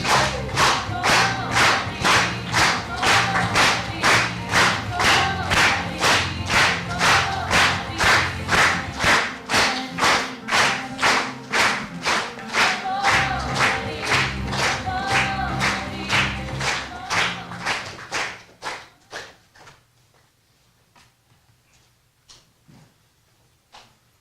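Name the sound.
audience applause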